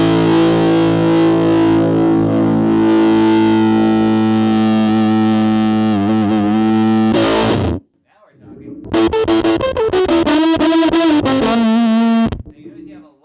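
Heavily distorted electric guitar played through a stereo receiver, a long sustained ringing chord, then a short gap before choppier distorted strums and a held note, loud and dark-toned.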